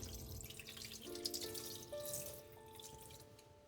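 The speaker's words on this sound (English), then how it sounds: "I remove the innards and wash it with the water." Running tap water splashing while a fish is gutted and rinsed clean for sashimi, a soft, steady trickle and drip at a kitchen sink with faint clinks, fairly quiet and close.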